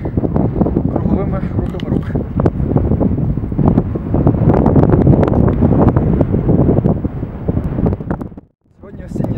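Gusty wind on a mountain in the Svydovets range buffeting the microphone in a continuous rough roar, briefly dropping out near the end.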